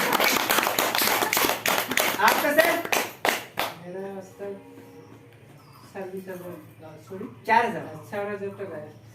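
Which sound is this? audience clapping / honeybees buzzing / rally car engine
audience clapping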